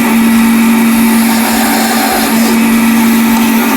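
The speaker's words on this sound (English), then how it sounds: "fire your bandsaw up." A woodworking bandsaw runs at full speed nearby, a loud, even motor whine over a steady hum that holds without a break.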